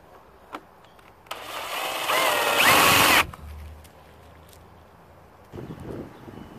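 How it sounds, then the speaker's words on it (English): Power drill boring a hole through a small radiator nipple pipe, a loud close whine that builds for about two seconds, then stops abruptly, with quiet handling noises around it. "Okay, we're gonna finish drilling the hole."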